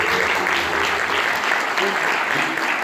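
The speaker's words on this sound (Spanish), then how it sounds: "Les pido un aplauso fuerte para la profesora" Steady, dense applause fills the hall as an audience at a university chemistry faculty symposium in Asunción claps for a professor, loud and continuous throughout with no pauses.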